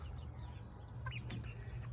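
Large meat chickens on a homestead let out a few soft, scattered clucks and chirps over a constant low hum. They sound fairly faint and distant.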